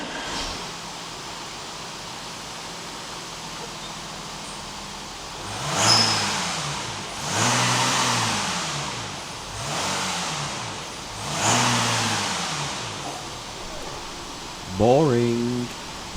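Straight-piped Audi 3.0 TDI V6 diesel rumbling at idle, then revved five times in spaced blips, each a raspy roar rising and falling back to a low burble, fairly close and without speech.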